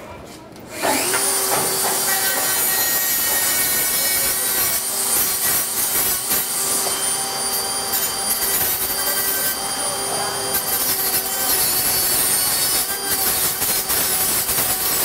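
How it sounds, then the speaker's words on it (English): A sander grinds down melted, sharp cut edges on a robot's metal parts in a robotics team workshop, making a loud, continuous abrasive whine that starts after a brief pause and runs steadily throughout, with faint voices in the background. "he's going to go ahead and clean up these sharp cuts where the metal's really been kind of melted and with the sander here"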